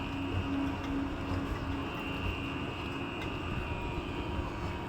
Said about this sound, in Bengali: দেখো বৃষ্টির কি তেজ, মানে দাঁড়ানো যাচ্ছে না, এত বৃষ্টি হচ্ছে